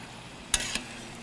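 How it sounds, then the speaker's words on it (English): Pasta dropped into a pan of sizzling vegetables, with a soft steady fry underneath and two short bursts of splashing and hissing as it lands. Nobody speaks. "We'll grab the pasta from one pan and we'll bring it right on top of the vegetables."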